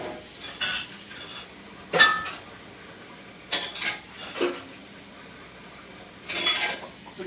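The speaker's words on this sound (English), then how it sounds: "Doing dishes." Dishes being washed at a kitchen sink, with sharp clinks and clatters of cutlery and pots in a few separate bursts over running-water hiss, close and fairly loud with no talk.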